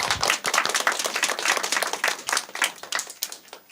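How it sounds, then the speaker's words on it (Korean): A church congregation applauding in advance of a member's birthday, a dense burst of many hands clapping together, loud and sustained for a few seconds with no talk over it. "우리 미리 축하의 박수"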